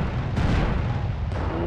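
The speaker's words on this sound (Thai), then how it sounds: "โอ้ระเบิดล้างโลก" A heavy, rumbling video game explosion of the moon crashing into Earth roars through the whole clip, dense low-end booming with a sharp burst near the start and another near the end.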